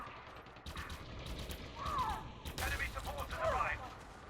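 Pistol fire in the first-person combat of Elite Dangerous Odyssey: faint, repeated sharp shots and mechanical clicks against a dull background, with a voice talking over them.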